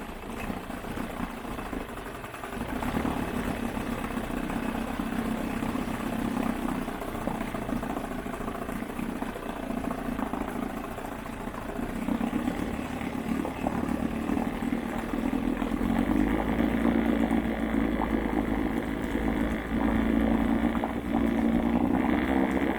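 An Evinrude 9.5 hp outboard motor runs steadily after its ignition timing and points have been adjusted, giving a continuous, moderately loud mid-pitched drone with a knocking edge that grows slightly louder toward the end. No voices are heard.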